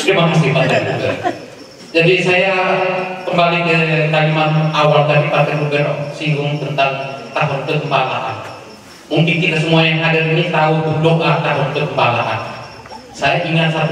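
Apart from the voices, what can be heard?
No distinct noise like a dog, phone or traffic.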